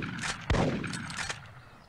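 Gunshots from the Big Buck Hunter Pro whitetail deer arcade game pop in quick succession through the cabinet's speakers, one prominent blast among fainter shots and game noise.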